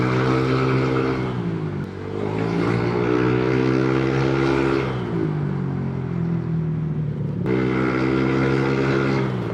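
Motorcycle engine fitted with a TRC Racing powerpipe exhaust, revving hard and close, its pitch rising and falling in sweeps with a brief cut near the end before climbing again; loud and steady, no talk.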